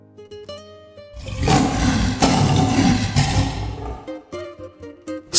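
A lion's roar presented as the mythical Nemean lion in a storytelling sound effect, loud and sustained over several seconds, rising from a rumbling build-up into a full-throated bellow before tapering off with short grunts.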